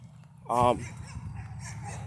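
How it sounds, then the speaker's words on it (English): A pet dog lets out one short, sharp bark in a quiet indoor room, with a low background hum before and after. "that's my dog, sorry."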